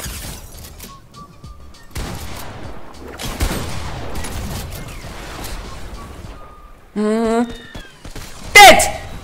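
Gunfire rings out in the video game Fortnite, with bursts of shots and sharp impacts scattered under excited talk, then a louder electronic flourish near the end.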